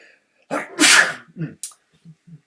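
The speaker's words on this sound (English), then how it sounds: "oh, let's sneeze" One person sneezes sharply and close by with a breathy intake and a loud burst, followed by a few small sniffs and soft vocal sounds.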